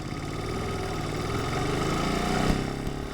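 A 2026 Ducati Monster motorcycle engine runs steadily at a near, loud, even throb, with a slight rise in revs toward the end and no voices.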